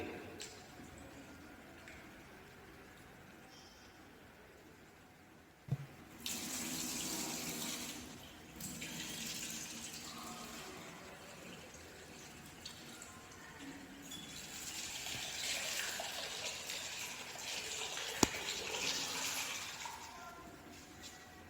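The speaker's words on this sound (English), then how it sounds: "We need to wash the rice and keep it for soaking for our today's preparation" Tap water runs into a sink while rice is washed, a soft continuous splashing that thickens and grows louder partway through, with faint knocks and handling clatter and no talk.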